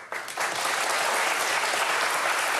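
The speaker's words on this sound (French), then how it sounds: "des applaudissements spontanés dans le public" Spontaneous applause from a live audience, a dense steady wash of many hands clapping that swells in quickly and holds loud and close for the whole stretch, with no talk over it.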